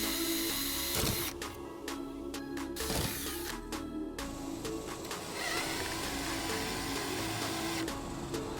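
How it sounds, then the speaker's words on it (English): A power drill whirs in short bursts and a sustained run, drilling pilot holes while installing a ceiling vent fan on a Dodge Promaster van, close by, with faint clunks between passes. "drill our pilot holes"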